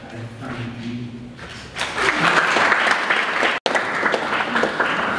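After a low murmur of voices, a public forum audience breaks into loud, sustained applause for children, many hands clapping densely. The clapping cuts out for an instant, then carries on.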